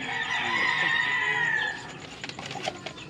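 Young chicks in a heated brooder peep in a continuous high chorus, fairly close and steady, then thin out into scattered chirps and faint rustling.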